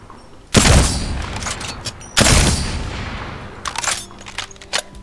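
A Sentinel sniper rifle fires in Apex Legends, two loud, sharp blasts about a second and a half apart, each with a rumbling tail, followed by softer clicks and handling noises.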